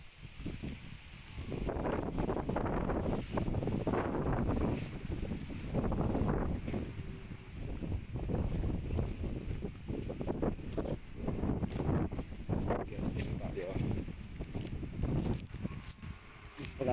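Strong wind ahead of Typhoon Uwan's landfall roars in gusts over an open field, buffeting the microphone and rustling vegetation for the whole stretch, with no talk heard.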